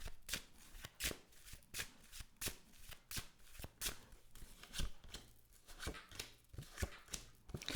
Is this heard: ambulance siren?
no